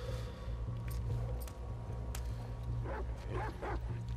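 A dog barks and yips several times in the middle of gunfire and combat noise in the video game The Last of Us Part 2, with a steady low game rumble underneath.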